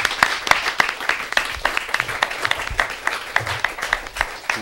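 An audience claps steadily to welcome a guest onto a local show in Hacienda Heights, with many dense, overlapping claps at an even level that carry on throughout.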